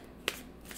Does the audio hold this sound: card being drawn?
yes